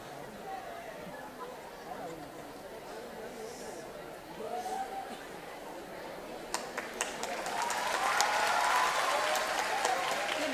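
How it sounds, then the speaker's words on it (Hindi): Audience applause for children at a school competition, starting faint with a voice over it and building to dense, loud clapping and crowd noise that carries to the end. "बच्चों का कंपटीशन था तो जोरदार तालियां जोरों से सबको प्रोत्साहन मिलना चाहिए"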